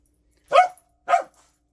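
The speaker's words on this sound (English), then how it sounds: "my dog's barking in the background" A dog barks twice, close and loud with a short gap between, in a home garage during work on a small-block Chevy 400 engine near an air compressor; nothing else is heard around the barks.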